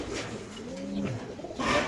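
Pigeons at a bird market give a few soft, low coos close by over a faint background murmur.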